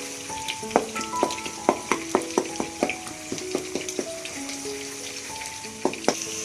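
Kabab gravy fries in a pan while a ladle mashes it, giving a continuous sizzle broken by repeated sharp metallic taps and scrapes in an uneven rhythm, close and fairly loud with no talking.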